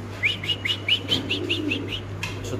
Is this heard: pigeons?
yes